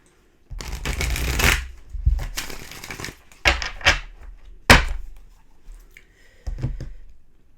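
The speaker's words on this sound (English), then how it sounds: "One more shuffle." A deck of tarot cards is shuffled in several quick bursts of riffling and tapping, close and crisp, with short pauses between them and no talking.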